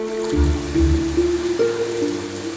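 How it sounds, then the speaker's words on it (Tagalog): Floodwater rushes into a school classroom, a steady loud flowing and gurgling wash with low churning surges and no talking. "pinapasok kasi ng tubig ang kanilang classroom."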